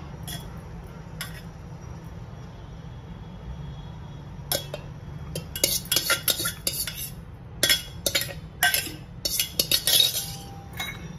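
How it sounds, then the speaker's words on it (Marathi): Cooked rice is spooned onto a raw jackfruit biryani in a pot. A quiet opening gives way to a run of close metal spoon clinks and scrapes against the vessel. "आता परत आपण याच्यावरती हा भात टाकूया"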